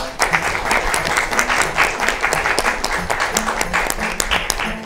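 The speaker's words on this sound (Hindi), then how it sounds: "तो फिर उनके लिए तालियां हो जाएं।" Sustained applause from an audience at a Christmas event for singers, dense steady clapping that fills the space, close and fairly loud, with faint voices underneath.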